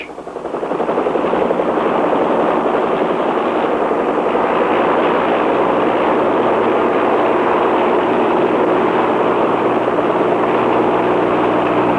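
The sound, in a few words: drone helicopter rising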